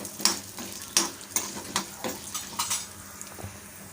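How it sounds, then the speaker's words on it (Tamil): Raw peanuts and lentils dry-roast in a pan over a medium flame, a spatula scraping and stirring in quick repeated strokes with a faint crackle, close and quiet. "இப்போ இது எல்லாத்தையும் சேர்த்துட்டு நல்லா வறுத்துக்கோங்க வேர்க்கடலை வந்து நான் பச்சை வேர்க்கடலை தான் சேர்த்துருக்கேன்"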